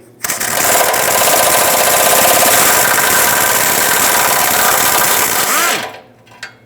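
A power socket tool rattles loudly and steadily against rusty 14mm exhaust spring bolts on a 2012-2017 Toyota Camry, one sustained close burst lasting about five seconds before stopping.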